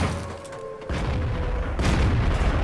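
A Panzer IV Ausf. H tank gun fires in a video game, one deep booming shot followed by a rumbling tail and a second heavy thump, loud and close.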